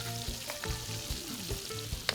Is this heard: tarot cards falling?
no